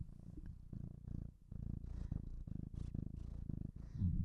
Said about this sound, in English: I don't know if you can hear her purring